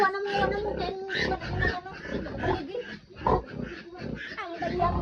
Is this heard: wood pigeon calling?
no